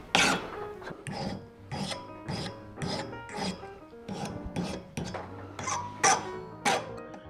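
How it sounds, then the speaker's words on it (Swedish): A metal file rasps across the sharp ends of a metal piece clamped in a vise, about a dozen steady back-and-forth strokes in an even rhythm, close and clear. "sätt fast biten i skruvstädet, ta fram en metallfil och fila av det vassa"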